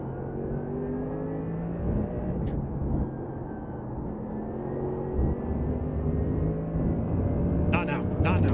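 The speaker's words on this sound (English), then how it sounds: "Car coming up quick." A race car in an IMSA racing video game at Jerez roars in steadily and closes fast, its engine drone building under a continuous layer of talk.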